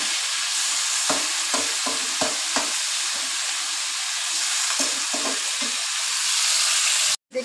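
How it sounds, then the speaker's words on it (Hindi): Chicken browning in hot oil in a kadhai, a steady loud sizzle with intermittent scraping stirs of a spoon, close up and without speech. "थोड़ा सा भून लेंगे ना तेल में"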